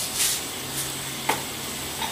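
Mustard and fenugreek seeds sputter in hot oil in a pan for a Kerala-style fish curry, giving a continuous soft sizzle broken by a few sharp, close pops, with no talking.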